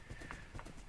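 Horse hooves clip-clopping in Minecraft, two steady, evenly spaced hoof beats standing out over a light background hum, with no talking.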